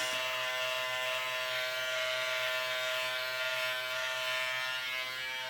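An electric razor shaving hair during a home haircut, a steady close buzzing drone that holds evenly throughout with no voices.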